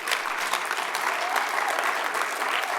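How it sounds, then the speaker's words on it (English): A crowd at a council awards event gives a round of applause, a thick, even wash of clapping from many hands that stays steady and loud throughout. "So a round of applause for that."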